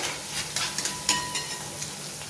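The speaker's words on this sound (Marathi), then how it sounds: "छान आता अशी सगळी तळून घ्यायची।" Spinach bhaji (palak pakoras) frying in oil, a close bubbling sizzle with sharp scraping clicks from a utensil stirring the pan, brief and fairly loud.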